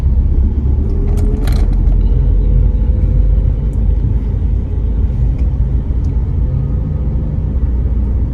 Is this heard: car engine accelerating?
yes